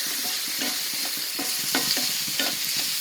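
Garlic and shallots sautéing in a pan for a dried turkey berry kuzhambu, a loud close hiss of frying with repeated scraping stirs against the pan and no voices.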